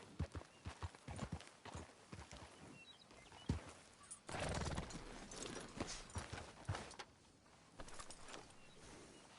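Horse hooves clip-clop in the video game Red Dead Redemption 2 as a horse is ridden, a steady run of close hoofbeats with a denser, louder stretch midway and faint background noise.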